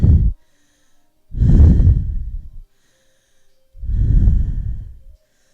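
Deep, slow breaths during a yoga leg-lift exercise: three long, close exhalations, each broad and airy, separated by near silence.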